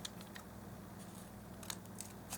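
Scissors snip while doll-size burger baskets are being cut out. A few faint, short clicks of the blades come at irregular intervals over a quiet background.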